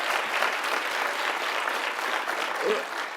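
Steady, dense applause from a large commencement audience at a keynote address, continuous and full throughout with no break.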